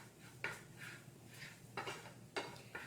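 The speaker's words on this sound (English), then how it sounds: "So I'm going to give that a stir." Puttanesca sauce stirred in a pan on a hot plate, a utensil scraping and clinking against the pan in several distinct strokes over a faint low sizzle, quiet and close.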